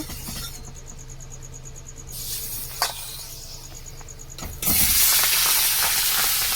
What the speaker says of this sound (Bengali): তেলটা গরম হয়ে গেছে কড়া, এবার দিয়ে দেব মাছটাকে ভেজে নেব।